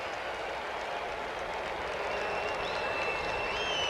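Crowd noise at a Dodgers–Expos baseball game in Montreal, a steady broad roar of a big stadium crowd giving a sarcastic cheer after a routine out, with faint whistles rising above it and no clear voices on top.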